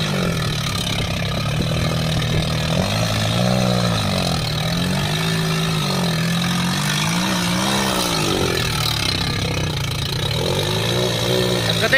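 A tractor engine runs near and loud with a continuous droning hum, its pitch rising and falling in several revving swells over an otherwise steady idle.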